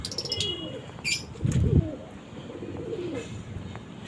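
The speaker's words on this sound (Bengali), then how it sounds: "আর ওখানে পাখি চেঁচি করছে।" Pigeons coo softly inside a home pigeon coop, a low burbling call swelling near the middle of the clip, with faint chirps and a steady background hum.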